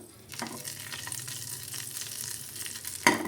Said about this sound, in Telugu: ఒక అర స్పూను ఆవాలు ఒక హాఫ్ స్పూను జీలకర్ర ఒక రెమ్మ కరివేపాకు అంతే ఇంకేమీ వేయక్కర్లేదు దీని పోపులో